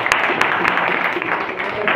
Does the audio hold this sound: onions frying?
no